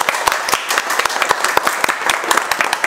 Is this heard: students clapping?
yes